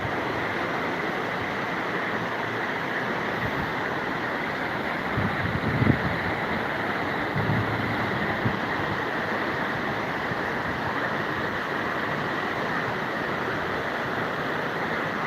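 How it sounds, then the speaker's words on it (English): A river rushes beneath a bridge in an outdoor setting in Germany, a steady broadband roar of flowing water that stays constant and loud throughout, with a few faint knocks partway through. "it's a bit louder here because of the water"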